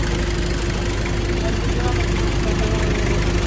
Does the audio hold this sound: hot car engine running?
yes